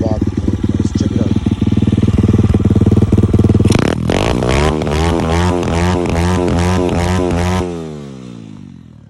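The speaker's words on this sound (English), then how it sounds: "I'm gonna rev the bike, and you're gonna hear the carb have no bog in it" A dirt bike fitted with a 26mm racing carburetor idles loudly up close, then snaps through a run of quick, sharp revs that rise and fall cleanly without bogging. It settles back toward idle at the end.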